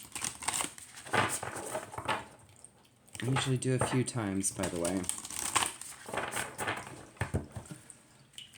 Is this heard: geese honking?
no